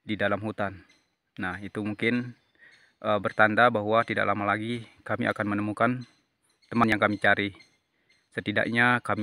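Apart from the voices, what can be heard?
No everyday noises stand out.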